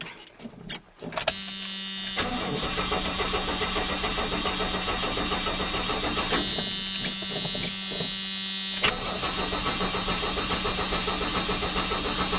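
A 1983 GMC truck with a turbocharged engine and Quadrajet carburetor, not run in a while, cranks with a steady whirring starter drone that carries on loudly and continuously, with brief shifts in pitch along the way.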